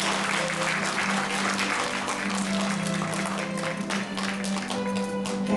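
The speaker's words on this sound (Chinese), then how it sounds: "我们再次给他们一个热烈的掌声。" Sustained applause from an audience at a school award ceremony, dense and even clapping that fills the room over a low steady hum, with no talking.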